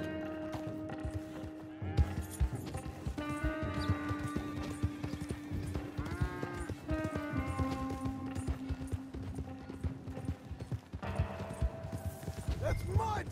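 A horse in Red Dead Redemption 2 clip-clops steadily at close range, its hoofbeats running under background music with sustained tones, with a whinny and game voices mixed in.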